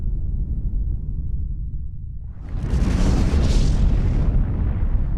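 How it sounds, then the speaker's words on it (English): A deep, low rumble suddenly swells into a massive roaring blast from the Krakatau volcano erupting, a thick sustained explosive roar that stays loud to the end. "This violent eruption was the opening salvo for a series of eruptions"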